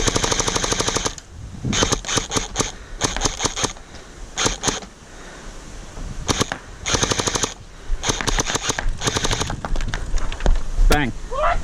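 A JM ACR gel blaster rifle fires in repeated rapid bursts of sharp shots, loud and close, separated by short pauses, with people talking in between.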